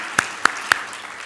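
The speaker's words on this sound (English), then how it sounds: "one more round of applause" Three sharp, evenly spaced handclaps ring out at a St. Amant town hall meeting. They sound close and crisp over a quiet room, then stop abruptly.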